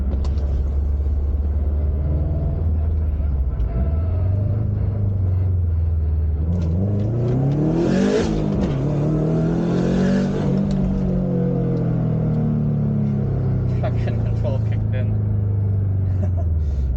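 A Subaru STi with a billet VF48 turbo accelerates hard on a street pull. Its engine rumble rises in pitch through the revs, sweeps up and down across gears, and stays loud and close throughout.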